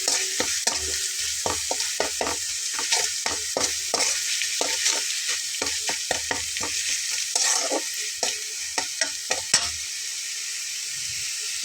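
Red chilli powder and turmeric stirred in a hot pan for a masoor dal and raw papaya dish: a steady sizzle with rapid, rhythmic spoon scrapes against the pan throughout.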